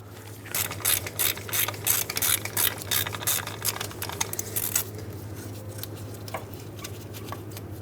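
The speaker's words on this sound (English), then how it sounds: "This will come off with a 15mm socket." Ratchet with a 15mm socket unthreading a stud near the rear ABS wheel speed sensor on a 2003-2009 Dodge RAM 2500, rapid close clicking in quick strokes for several seconds, then fading to a few sparse clicks under a low steady hum.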